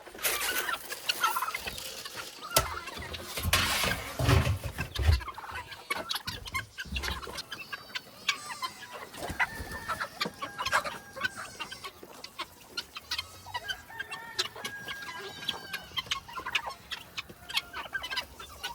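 Guinea fowl and chickens cluck and chatter while pecking at feed, a busy flock of close, overlapping calls with scattered sharper cries throughout and no talking.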